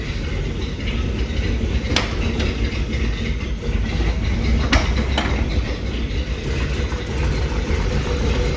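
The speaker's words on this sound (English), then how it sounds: "it's definitely idling a little bit low" A 1959 Chevrolet Impala convertible's engine idles a little low, a steady dense rumble with faint irregular ticks throughout, continuous and close, with no talking.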